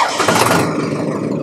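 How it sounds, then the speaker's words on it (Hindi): A 60 hp Farmtrac 6055 Power Maxx 4x4 tractor engine cranks and catches with a loud, close burst, then settles into a rough, steady idle. "अब मैं आपको स्टार्ट करके दिखाता हूँ ट्रैक्टर, आप देखना इसकी आवाज़ कैसी है"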